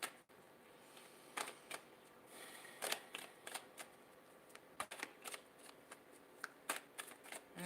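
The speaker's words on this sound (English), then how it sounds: "I feel like just getting 2 tarot cards for you." Tarot cards shuffled by hand in a quiet room, a run of crisp riffling bursts and soft slaps at an irregular pace, close and fairly faint.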